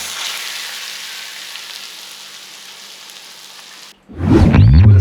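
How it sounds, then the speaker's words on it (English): Hot mustard oil poured over a chutney blend gives a steady hiss that is loud at first and slowly fades, then cuts off into a sudden burst of louder, rougher sizzling. "tempering the blend with hot mustard oil"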